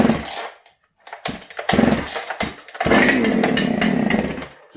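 Husqvarna 394XP chainsaw in a shop, revving loudly in short bursts with brief drops to near silence, then held at a sustained high-pitched roar.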